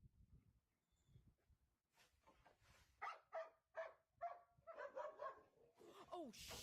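A dog barks in a rapid series of sharp, moderately close barks, with a few yips and whines, while people talk in the background of a live stream.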